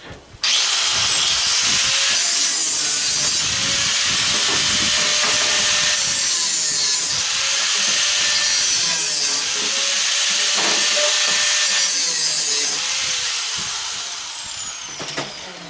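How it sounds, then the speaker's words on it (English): Angle grinder cutting stainless steel ice maker parts for scrap, a loud harsh continuous whine and hiss lasting most of the stretch, close up with slight pitch shifts as it bites the metal. "I'm fixing to fire up the grinder."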